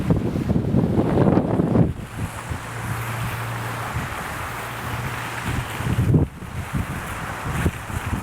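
Wind blows outdoors in Chicago, buffeting the microphone in a continuous rushing roar with stronger gusts at the start and near the end, and no speech.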